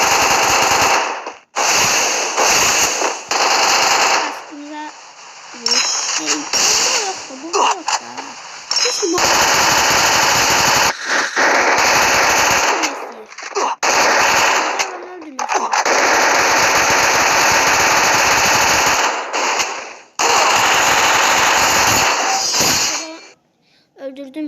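Uzi submachine gun fire in the Free Fire battle game, loud sustained bursts repeating over and over with short gaps, while a player keeps talking over the shooting.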